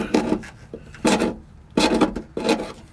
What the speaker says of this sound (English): So now that it's dry and cooled off again, use the putty knife and just scrape